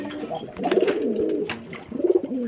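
Low, rolling coos from a pair of Rajshahi Giribaz flying pigeons up for sale, two close phrases with a short pause between, over light background noise.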